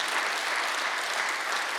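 A Korean church congregation at Sunday worship breaks into a short burst of dense, even clapping, a continuous wash of many hands close and loud with no speech over it.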